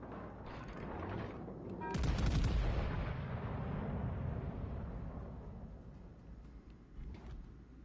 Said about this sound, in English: I should probably shoot at the Atlanta